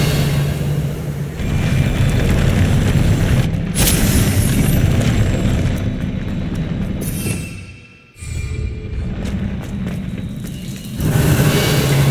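A Confringo spell blast in Hogwarts Legacy lands as a loud, booming burst with a rumbling tail, followed by further heavy impacts and game effects, close and forceful, with no talking.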